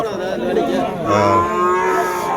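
Dairy cattle low with drawn-out, resonant moos at a busy Vaniyambadi cattle market, close and loud, while crowd chatter and voices murmur steadily underneath.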